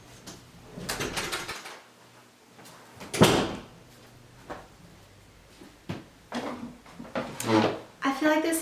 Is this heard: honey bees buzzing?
no